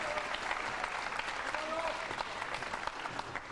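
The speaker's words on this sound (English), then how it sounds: "And the crowd loving it." A crowd at a 9-ball pool match between Efren Reyes and Steve Davis at the 2000 World 9-ball Championship claps steadily. The sustained applause runs through the whole stretch under a commentator's talk.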